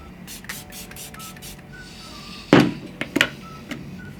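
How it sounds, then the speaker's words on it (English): Short bursts of makeup setting spray misted onto a face: one strong hissing spritz, followed by two or three quicker pumps, close and clear in a quiet room. "the final step is spraying your face"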